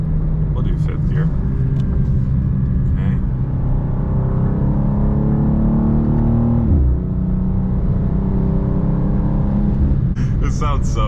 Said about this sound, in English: Really good sounding engine. At least on stock exhaust it is.